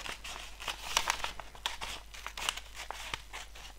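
Paper being cut and trimmed with scissors to remove white parts, giving a run of close, crisp crinkling snips and rustles at an irregular pace, with no talk over it.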